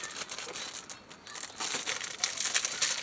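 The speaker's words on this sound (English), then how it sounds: "I'm opening the film that came with it" Crinkly plastic rustles and crackles as the film pack for a Canon Selphy CP1500 photo printer is pulled open by hand, close and fairly quiet, growing busier toward the end.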